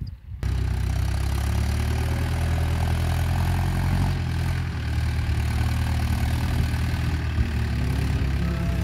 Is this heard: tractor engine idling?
yes